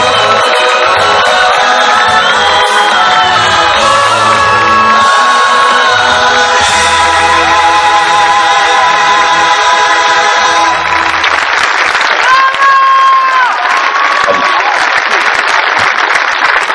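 Loud, dense audience applause with cheering and whoops for the Madre Teresa performer at a stage musical, sustained throughout over lingering music that fades out partway.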